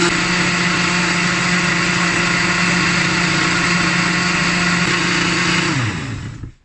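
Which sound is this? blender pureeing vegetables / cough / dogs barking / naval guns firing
blender pureeing vegetables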